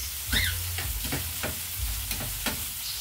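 Bitter gourd (ampalaya) frying in a pan, with a steady sizzle running throughout and a few scrapes of a utensil stirring it. No one speaks.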